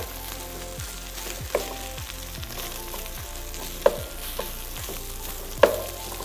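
Garlic sizzles steadily as it fries and burns in a pan, with a continuous crackling hiss, faint repeated stirring scrapes and a few sharp clacks of a utensil against the pan; no one speaks.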